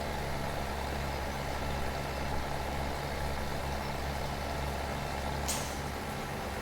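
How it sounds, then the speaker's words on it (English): Farming Simulator 17 tractor engine labouring under load, a steady loud droning rumble with a brief hiss near the end, heard alone without talk. "Oh man, that tractor's having a hard time."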